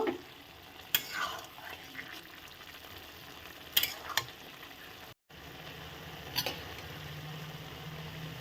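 Eggplant being stirred in a frying pan, a low steady sizzle with occasional clinks and scrapes of a spatula against the pan and a brief dropout midway, close by with no talking.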